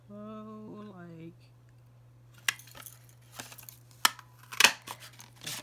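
A craft punch stamping an ice cream shape out of paper, a few sharp close clicks and crunches after a brief spoken line, with quiet gaps between.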